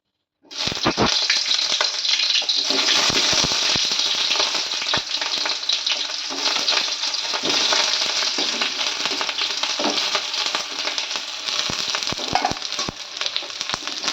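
Sliced onion drops into hot oil in a kadhai and fries with a loud, continuous crackling sizzle that starts abruptly and holds steady, with occasional stirring scrapes, close by.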